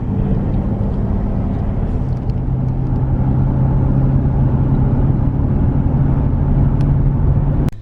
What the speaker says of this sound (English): now we're getting back on the highway